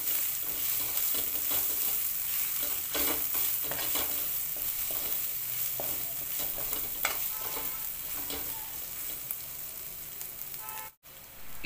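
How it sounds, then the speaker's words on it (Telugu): Spices with chili powder frying in a pan, a continuous soft sizzle with intermittent stirring scrapes, quiet and close, with no voices. "ఇప్పుడు ఇదంతా పచ్చివాసన పోయే వరకు వేయించుకోవాలి."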